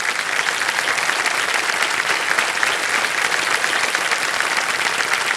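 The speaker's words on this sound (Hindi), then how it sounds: "तालियां बज जाए इनके लिए" A studio audience on the quiz show Kaun Banega Crorepati claps loudly and steadily, dense applause filling the whole stretch without letting up.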